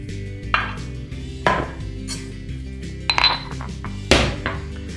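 Peppercorns for a bacon cure crushed in a kitchen, giving a few separate sharp clinking, crunching strikes spaced about a second apart over a steady low background.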